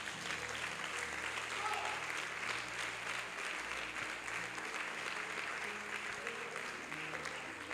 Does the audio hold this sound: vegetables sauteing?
no